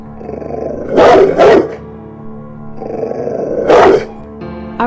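A dog growls and barks in two loud bursts, the first a quick double bark near one second and another harsh bark near four seconds, with low rumbling growl between them.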